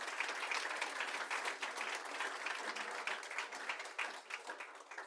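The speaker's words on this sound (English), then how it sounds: "Let's give them another round of applause." An audience gives steady, sustained applause after a panel discussion at a business launch conference, a dense wash of many hands clapping that holds for several seconds and tapers slightly at the end.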